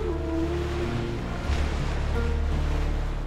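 Sea waves washing onto the shore in a steady, broad rush, with wind noise mixed in and no voices.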